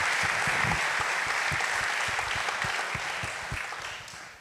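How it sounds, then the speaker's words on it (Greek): At a conference in Greece, an audience applauds, dense, sustained clapping from a crowd, fairly even and mid-distance, tapering slightly toward the end with no talk over it. "Αυτό νομίζω χρειάζεται ένα χειροκρότημα για όλη την οικογένεια."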